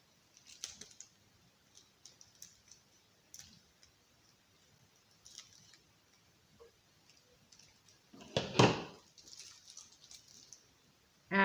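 Sparse crisp snips and rustles of scissors cutting a plastic mailer, with one louder crinkling cut partway through, in a quiet room without talking.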